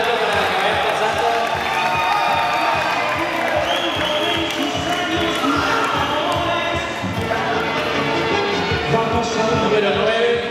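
Steady applause and cheering rise from a crowd at an award ceremony honouring a national champion school team in Matagalpa, with dense clapping sustained throughout as players are recognised one by one.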